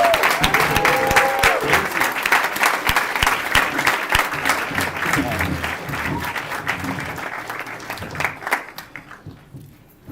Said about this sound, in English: Let's give a standing ovation to our dear principal